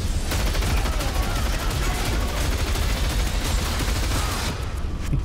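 Dense, continuous gunfire from the Wrath of Man trailer, rapid overlapping shots forming a loud, sustained barrage with booming low end throughout, nothing else audible over it.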